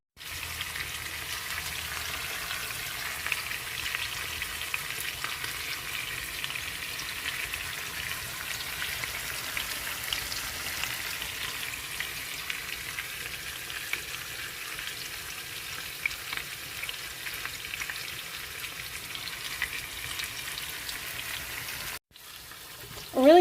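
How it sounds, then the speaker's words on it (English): Brisket searing in a pan gives a steady, broadband sizzle that runs close and even for over twenty seconds, then cuts off briefly near the end. "I'm really glad I decided to sear it first because I think it's going to make such a big difference."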